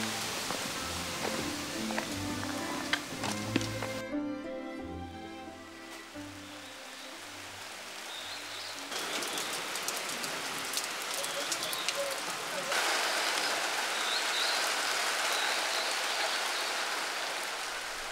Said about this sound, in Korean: 갑작스레 찾아든 굵은 빗방울